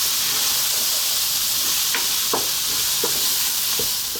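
Garlic and turmeric fry in hot oil in a pot for Ethiopian minchet alicha wot, a steady close sizzle with a few sharp scraping stirs of a utensil against the pan.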